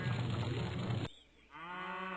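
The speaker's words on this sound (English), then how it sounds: "There's some cows" Cartoonish cattle in a McDonald's farming video game moo loudly and close, one long low call that cuts off abruptly, followed after a short gap by a second, thinner bellow.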